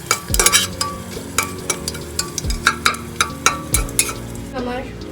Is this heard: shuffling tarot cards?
no